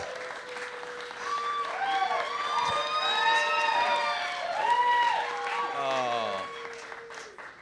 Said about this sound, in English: That's so much more applause than I deserve.